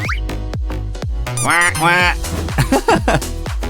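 A cartoon duck gives a run of loud, nasal, honking quacks, with other voices and sharp thumps around it.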